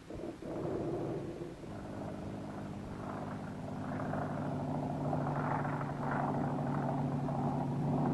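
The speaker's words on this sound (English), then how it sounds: "a chartered airplane was in the air at daybreak with an aerial survey analyzer" Chartered airplane flying at daybreak on an aerial radiation survey, a steady droning engine hum with layered propeller tones that swells slightly as it holds a continuous pitch, with no voices.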